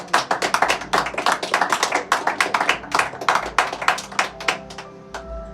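A church congregation clapping together during a sermon, a loud, fast and steady run of sharp handclaps from many hands that thins out and fades toward the end.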